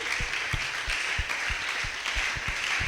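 A church congregation applauding, with steady, fairly rhythmic clapping from many hands throughout, moderately loud and without talk.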